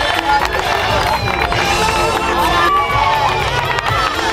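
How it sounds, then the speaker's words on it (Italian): Outdoor crowd at a children's award ceremony cheering and clapping for a winner, a loud continuous roar of mixed voices and applause with an announcer's voice over it. "applausi per Alberico Catalano, stregone volante"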